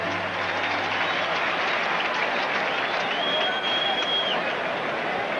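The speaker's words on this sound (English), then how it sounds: "Nice round of applause for Mickey Hatcher as he steps in." Baseball crowd applauding as Detroit Tigers batter Mickey Hatcher steps to the plate against the Minnesota Twins, a dense and steady roar of clapping from a full stadium that holds through the whole stretch.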